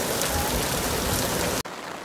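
Heavy rain pours steadily at a port on the Miranda River, a dense, continuous hiss that drops suddenly near the end and resumes more faintly.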